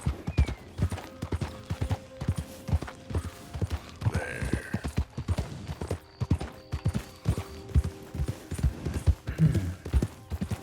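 Horse hooves in Red Dead Redemption clip-clop in a steady, brisk rhythm, close and continuous throughout, with occasional faint creaks.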